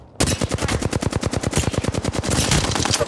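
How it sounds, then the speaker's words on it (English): Rapid automatic gunfire in a battle royale video game, loud and close, with dense bursts of shots rattling off in quick succession for about three seconds and no talking. "I'm getting shot at."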